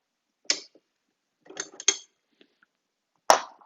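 Pins pushed and pulled out of the trigger handle on a Demco tow bar: a few sharp, separate metallic clicks and scrapes, close and spaced apart, with silence between them.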